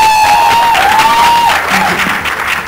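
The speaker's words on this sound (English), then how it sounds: "Big round of applause for her" A crowd claps loudly and continuously at a film trailer launch event, a dense steady wash of applause that tapers slightly toward the end, with a sustained tone running beneath it at the start.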